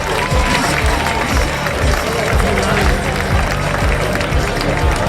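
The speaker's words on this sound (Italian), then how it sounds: "Un applauso ai nostri sponsor" Audience at the Miss Città Murata beauty pageant in Pianiga applauding the sponsors, a loud continuous wash of clapping from a crowd with scattered cheers and voices mixed in.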